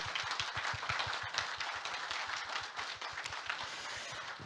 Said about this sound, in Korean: 여러분 큰 박수 한번 좀 부탁드릴게요